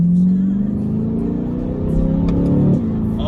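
A 2020 Chevrolet C8 Corvette's engine revs loudly through a downshift, with a steady close rumble that rises in pitch and then drops sharply near the end, with no talking.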